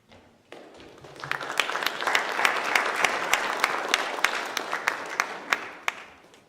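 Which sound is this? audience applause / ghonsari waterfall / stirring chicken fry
audience applause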